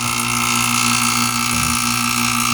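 A vacuum pump evacuating newly replaced aircon piping during a leak repair runs as a loud, steady mechanical drone with a constant hum that holds unchanged throughout.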